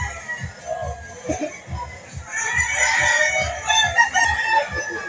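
A McLean hatch stag rooster crows loudly and close at a rooster market in Lipa, Batangas, one drawn-out call rising over a steady low rhythmic thumping and faint background chatter.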